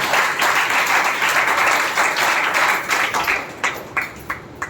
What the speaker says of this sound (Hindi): रोहित के लिए तालियां बजाइए।